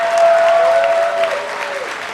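Crowd clapping from esports fans at a League of Legends playoff semifinal between TSM and Vulcun, a continuous soft wash of applause in a large venue with a faint steady tone running through it.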